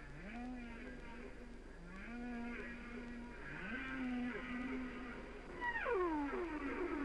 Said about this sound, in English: listening to the calls of the whales reverberating through a canyon below